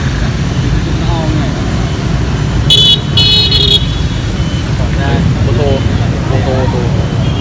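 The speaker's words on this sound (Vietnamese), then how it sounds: "đúng cái chỗ xe đi lại này lắm." Steady road traffic rumbles nearby with a short horn toot in the middle, while people talk over the noise.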